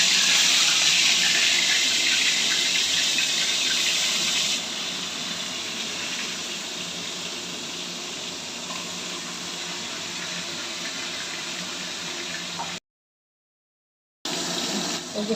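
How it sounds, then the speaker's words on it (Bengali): Koi fish dropped into hot oil in a home kitchen for tel koi, giving a steady loud hiss and sizzle that eases after a few seconds, with a brief silent gap near the end. "এবার তেলে দিয়ে দিচ্ছি কই মাছটা।"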